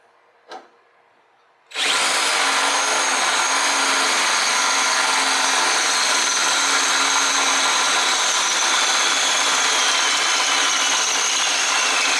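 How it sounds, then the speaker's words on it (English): A cordless power drill enlarges a pilot hole to 21/64 inch in a custom shifter and brake peg part for a Honda Shadow motorcycle. A faint click comes first, then the drill whines loud, close and steady until the end. "now we drilled our pilot hole here, and I'm going to open this hole up to a"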